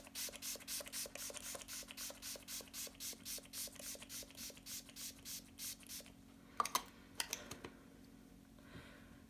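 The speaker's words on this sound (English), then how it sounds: "I'm going to be using the Wet n Wild Photo Focus Natural Finish setting spray" A series of short, evenly spaced spritzes of Wet n Wild Photo Focus Natural Finish makeup setting spray, about a dozen in quick rhythm, then a few faint taps and rustles.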